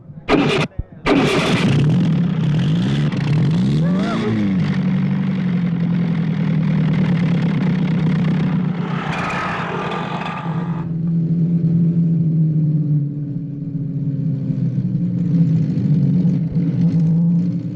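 An old car engine cranks and catches, then revs up loudly and settles into a rough, noisy idle that continues steadily to the end.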